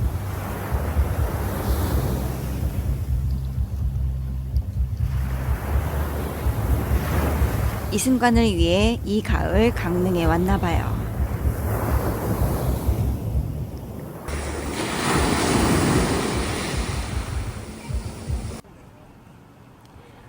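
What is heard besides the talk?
ocean waves breaking on Gangneung beach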